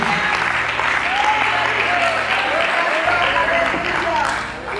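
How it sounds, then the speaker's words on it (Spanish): A church congregation applauds during a sermon, with a sustained wash of clapping and crowd noise under faint vocal sounds and low background music, steady for nearly five seconds. "Dale un aplauso al Señor."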